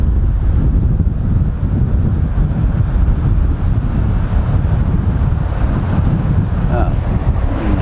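Strong wind buffets the microphone in a steady roar over rough surf breaking at Nai Harn Beach, Phuket, a constant, loud wash with no letup.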